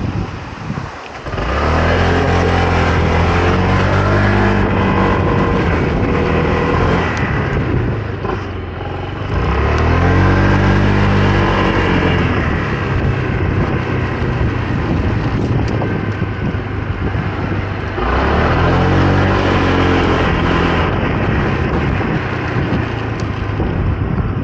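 Honda PCX 2024 125cc scooter engine droning steadily while riding on a mountain road, with strong wind rush over the microphone and a few rising and falling revs, no talking.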